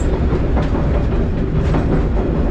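Savannahlander passenger train climbing a steep mountain range toward Kuranda, with a steady loud rumble of engine and rolling wagons and a continuous clickety-clack of wheels on rail, close and unbroken.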